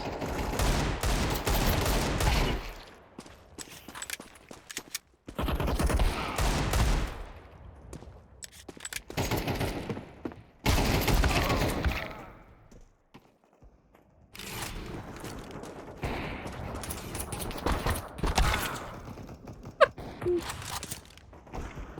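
Bursts of rapid gunfire in a Counter-Strike 2 deathmatch, loud close volleys separated by short quiet gaps, with repeated shots and machine-gun rattles throughout.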